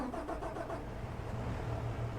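A Steiger tractor engine in Farming Simulator 22 cranks and catches, settling into a low, steady idle rumble within about two seconds, with no talking.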